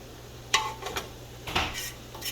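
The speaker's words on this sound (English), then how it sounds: "that's my greens, just frying it. And for this, I gotta be stirring it so it doesn't get burnt." Greens and onions frying in a pan for a Nigerian-style meal with pounded yam and beef stew, with a few metallic clinks and scrapes of stirring, quiet and close, over a faint steady sizzle.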